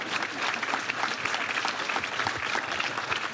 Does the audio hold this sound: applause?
yes